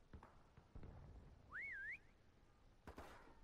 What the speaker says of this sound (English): What is whistling?